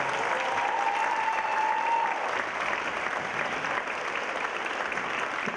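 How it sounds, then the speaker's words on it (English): Steady, dense applause from a school audience fills a middle school winter concert hall for several seconds, loud and continuous with no talk over it. "So let's give them a big round of applause."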